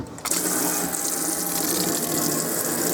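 Very hot water gushes from a swivel tap into the sink of a 2006 Elddis Avante 505 touring caravan, a loud, close, steady rush that starts abruptly and runs on unbroken.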